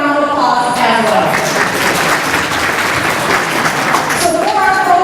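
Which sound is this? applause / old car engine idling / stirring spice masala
applause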